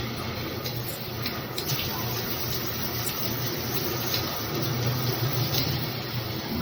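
A WarmSpray high-pressure fixed shower head, four inches wide with five settings, running on very low household water pressure, gives a steady, close hiss of spraying water that stays fairly even throughout.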